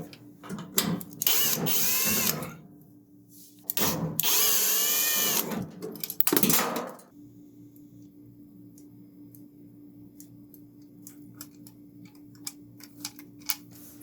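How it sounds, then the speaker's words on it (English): A washing machine lid switch is unscrewed with a power driver: two loud whirring bursts of a few seconds each, followed by a quiet stretch with sparse small clicks and taps. "remove the jumper wire, and unscrew the switch."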